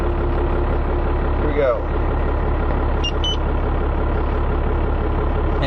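A vehicle engine with a cruise control high idle kit idles steadily at a loud, constant level throughout, with someone speaking briefly over it.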